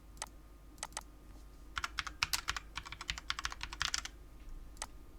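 Close, crisp keystrokes on a computer keyboard as text is typed into a shape in Canva, with a few isolated taps followed by a dense, rapid flurry of clicks.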